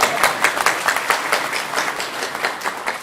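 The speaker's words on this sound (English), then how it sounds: "Round of applause." A room full of people at a conference claps steadily in brief, lively applause, no voices over it.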